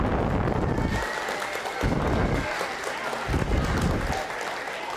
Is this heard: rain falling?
no